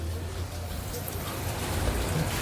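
Steady rain falling outdoors on a farm, a dense continuous hiss with low rumble throughout, fairly loud and unbroken, with no clear talking.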